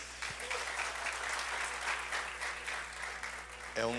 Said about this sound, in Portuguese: Vamos dar um aplauso ao Senhor pelos pais